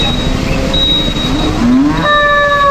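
A huge 1.4-ton bull at a cattle contest in Tulungagung gives a loud, close, drawn-out moo whose pitch rises and falls, over a busy outdoor background hum.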